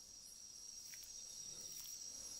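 Bush crickets chirping at night in the ant strategy game Empires of the Undergrowth: a faint, steady high-pitched trill running continuously over a soft ambient hiss.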